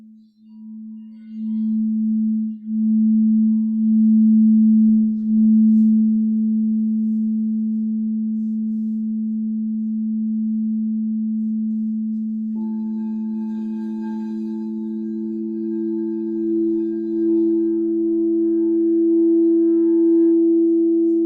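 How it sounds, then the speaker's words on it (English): Crystal singing bowls ringing out in long, pure sustained tones, first the A and then the E joining it halfway through, steady and loud with a faint knock early on, no voices. "just play a couple of the crystal bowls so you can hear what those sound like"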